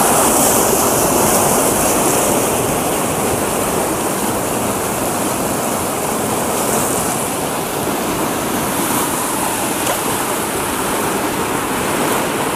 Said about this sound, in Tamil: இவ்வளோ சின்ன வாய்க்காலில் வந்து இவ்வளோ பெரிய வாய்க்காலுக்கு தண்ணி போகுது பாருங்களேன்.